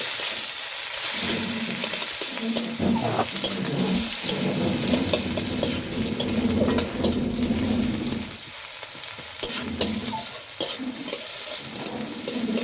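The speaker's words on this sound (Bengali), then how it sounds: "আর দিয়ে দিচ্ছি আমি পেঁয়াজ। তারপর এটা আমি ভালোভাবে ভেজে নেব।" Onion with whole cumin and two green chillies frying in a pan, a steady close sizzle with bursts of hiss and spatter, plus occasional scraping and stirring clatter that rises and dips over its length.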